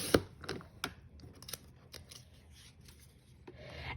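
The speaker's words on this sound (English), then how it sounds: "So I'm going to cut some 1-inch strips now" Scissors cutting 1-inch strips of scrapbook paper, a string of crisp, quiet snips and rustles at an uneven pace, close by with no talking.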